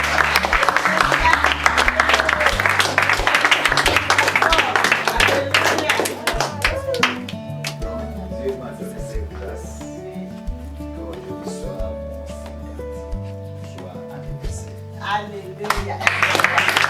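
Children applaud and clap during a birthday visit to an orphanage, a dense burst of hand claps for about seven seconds that thins out under music and voices, then swells again briefly at the end.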